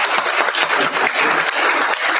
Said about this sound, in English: So round of applause for the panelists,